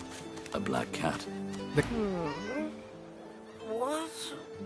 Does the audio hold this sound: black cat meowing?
yes